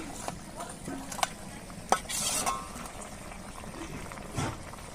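Pabda fish curry broth with tender pumpkin bubbles at a boil as the fish goes in, with a few utensil clinks and stirring scrapes close by and a soft sizzle underneath.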